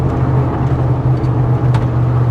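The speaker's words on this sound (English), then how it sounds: "I heard it downshift too" Steady, loud engine drone from a Ford F150 pickup driving along, a low constant hum with slight shifts in pitch as it downshifts, close and continuous with no talking.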